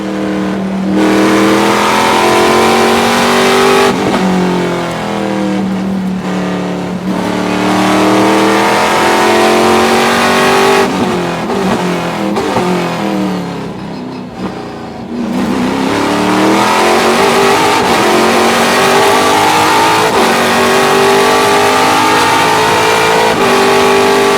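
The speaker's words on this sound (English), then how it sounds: "Let's ride on board with Kyle Kelly." Trans Am TA2 race car engine at Laguna Seca, heard on board: loud, continuous engine note rising and falling through gear changes as it revs, lifts and accelerates again, with no talk over it.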